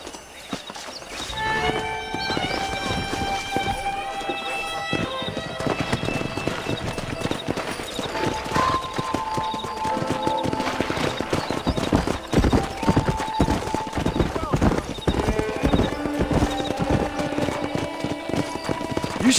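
Horses gallop in Red Dead Redemption, with rapid, continuous hoof clip-clops and an occasional whinny running under tonal in-game music for the whole stretch.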